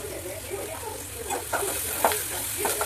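Egg curry masala with salt and turmeric fries in a pan, a constant soft sizzle broken by several scraping stirs of a spatula that grow sharper toward the end, with no voices.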